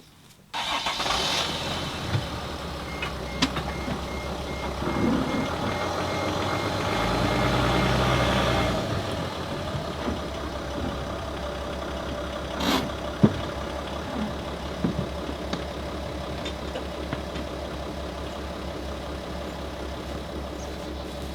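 A dual-wheel RV truck idles and rumbles as it drives down off ramps, a steady low engine drone that swells around the middle, with a few sharp clunks and knocks later on.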